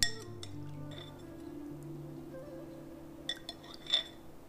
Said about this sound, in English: Giving the dressing a stir, and we'll bring it over and we'll dress this.